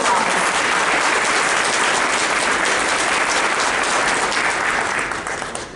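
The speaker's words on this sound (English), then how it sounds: "So give them all a round of applause." Sustained applause from an audience at a board meeting, a dense, steady patter of many hands clapping, loud and unbroken before tapering slightly at the end.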